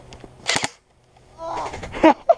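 An airsoft gun fires BBs during a game on a field, with a quick cluster of sharp cracks close by, followed by a person's voice.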